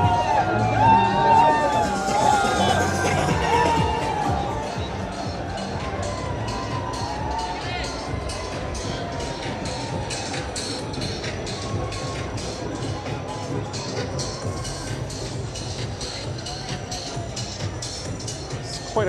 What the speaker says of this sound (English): quite a crowd here.